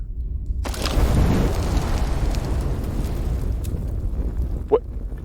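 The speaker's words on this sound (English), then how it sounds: "When I pull it out, why does it sound like I just walked into a burning house?" In the Homefront Revolution video game, a weapon on the hip belt gives off a loud, steady roar of burning fire, rushing and crackling, with a short pop near the end and a voice talking over it.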